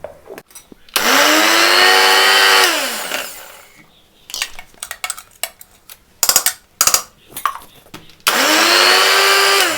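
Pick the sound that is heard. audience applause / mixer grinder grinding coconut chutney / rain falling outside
mixer grinder grinding coconut chutney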